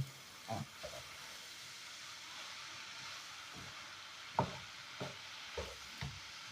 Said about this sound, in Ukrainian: не накриваю кришку, бо буду її цілий час е, мішаю, щоб вона випарувалась і і добре пересмажу